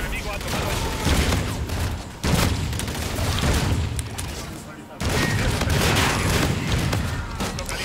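Dense, continuous gunfire and booms from the Call of Duty Infinite Warfare video game, heavy and loud throughout, with brief dips in intensity.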